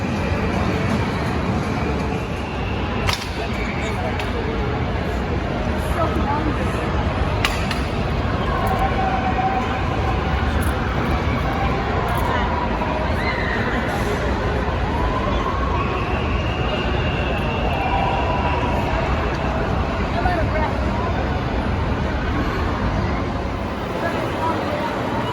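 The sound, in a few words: Shredder spinning roller coaster ride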